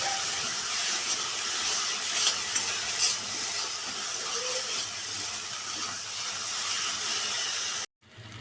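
Spices with salt, turmeric and sugar sizzle steadily in hot oil while being stirred for a fish curry, a close, continuous hiss with occasional scraping stirs, ending in a brief cut.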